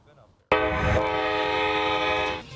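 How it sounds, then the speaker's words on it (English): A freight train in the United States sounds a loud, sustained horn close by, holding steady for about two seconds before cutting off, over the rumble of the passing train. "The freight trains all over the U.S."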